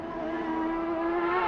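IndyCar race car at speed around the Belle Isle street circuit, its engine holding a steady, loud high-pitched drone with a slowly rising tone, continuous and close throughout.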